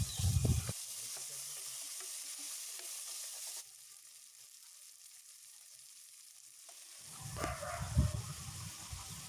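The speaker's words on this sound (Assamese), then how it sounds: "কঁঠাল গুটিখিনি দি ভাজি লৈছোঁ।" Jackfruit seeds and soaked lentils frying in a pan sizzle briefly at the start and end, with scraping stirs; a quiet, faint hiss fills the middle stretch.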